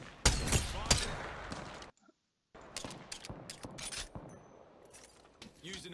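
Gunfire in the Apex Legends video game, a burst of rapid shots early on, a brief drop to silence, then scattered sharper cracks and impacts, with a voice talking over parts of it.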